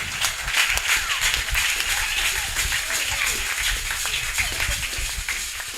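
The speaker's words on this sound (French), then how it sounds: "Vous acclamez bien." An audience claps and applauds at a church anniversary celebration for a prophet, steady dense clapping close by, with voices mixed in over it.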